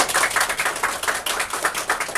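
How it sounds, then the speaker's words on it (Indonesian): A seminar audience applauds at a parenting event in Bekasi, a dense, steady wash of many hands clapping that fills the whole stretch without pause. "Tepuk tangan buat acara kita hari ini."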